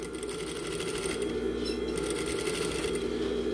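An industrial straight-stitch sewing machine fitted with a 3-in-1 presser foot runs steadily, a fast, even mechanical whir with rapid needle ticking that holds constant throughout, close and loud with no talking.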